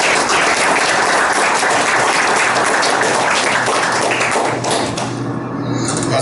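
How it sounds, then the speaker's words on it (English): A seated audience at a Memorial Day forum on veteran homelessness in Tucson, Arizona, bursts into sustained applause, loud dense clapping filling the room before tapering slightly near the end. "A hand, a round of applause for Lewis Arthur."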